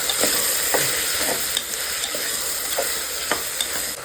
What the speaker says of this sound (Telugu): సో ఈ క్యాబేజ్ కూడా ఫ్రై చేసేసుకుందాం.